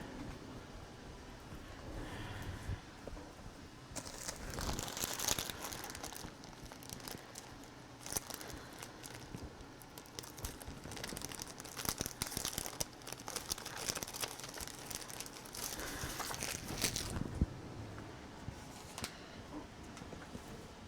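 Paper is cut and handled while making a scrapbook album, with rustling, crinkling and snipping that come in clustered bursts of varying loudness, near and steady, without talking.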